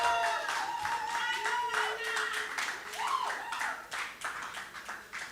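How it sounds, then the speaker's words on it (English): Scattered audience clapping welcoming a speaker to the stage at an evening event in Accra, fairly faint and uneven, with background voices and music tones running under it. "can we, with a hand of applause, welcome Wana Udobang to the stage"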